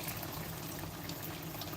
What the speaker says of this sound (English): I'm gonna put a little bit more water because my daughter likes gravy